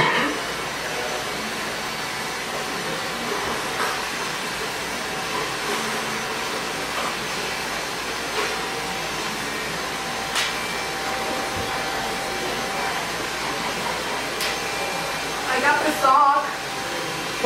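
A blow dryer runs steadily on short red hair during a salon pixie cut, a constant whooshing whir close by with a brief louder bump near the end.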